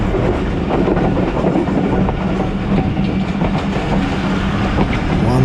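The 130DN Thal Express passenger train from Rawalpindi to Multan runs on rails near Taxila, a loud, steady rumble with continuous clickety-clack of wheels heard from aboard, with no talking.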